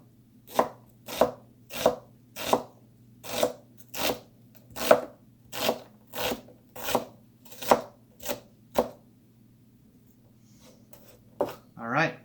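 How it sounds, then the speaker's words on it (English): An onion being chopped with a knife on a board for guacamole, about a dozen evenly spaced sharp chops close up, then a pause and a few final cuts. "we're going to cut up our onion"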